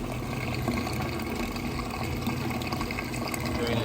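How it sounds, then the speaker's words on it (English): A Whirlpool washing machine pump drains water in a steady, continuous rushing whir with a low mechanical hum underneath, close and constant throughout. "draining nice and fast"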